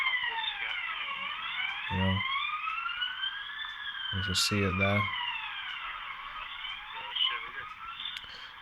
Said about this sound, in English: they sent the ambulance past.